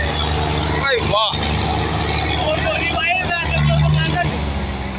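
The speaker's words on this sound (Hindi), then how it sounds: "महिंद्रा ट्रैक्टर पूरी जान लगा रहा है और महिंद्रा 265 है पर प्रीत सुपर 35 के गले में गल गया भाई।" A Mahindra 265 tractor engine labours hard in a tug-of-war against a Preet Super 35 tractor, a loud continuous low drone under an excited crowd and shouting voices.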